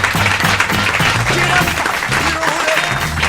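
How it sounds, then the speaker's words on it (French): A studio audience applauds a woman named Geneviève on a French comedy radio show, giving dense, continuous clapping at close range with some voices mixed in. "Applaudissements pour Geneviève."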